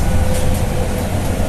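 An MRT metro train passes along an elevated line over Jalan TB Simatupang, a steady, loud low rumble with broadband roar that holds throughout, no talking.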